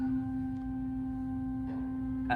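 A soft, steady pipe organ bourdon flute stop tone holds middle C, pure and mellow, with faint background noise and a small click at the end.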